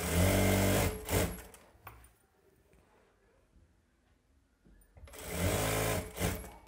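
Sewing machine stitching along a saree edge with the cloth pulled tight underneath, running loud in two bursts at the start and end with a quieter pause between.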